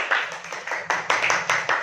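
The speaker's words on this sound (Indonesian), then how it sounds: "mari kita beri tepuk tangan untuk kelompok 2" A classroom group claps for a student group after a music presentation, uneven bursts of hand claps in short waves, fairly close, with a faint voice underneath.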